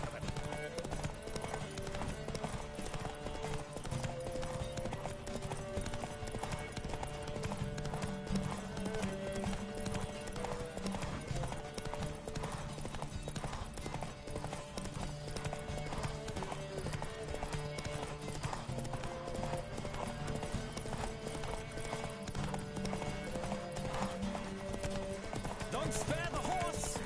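Galloping horse hooves during a horse race in The Witcher 3: Wild Hunt, a rapid, continuous clip-clop drumming that runs the whole stretch under music and occasional voices.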